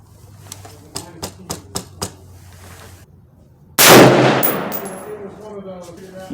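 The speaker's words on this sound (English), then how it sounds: "I'm going to shoot 3 rounds and clean my barrel" Several sharp rifle shots from a Smith & Wesson M&P15 ring out in quick succession at a range, followed by a louder, closer blast with a long decaying echo.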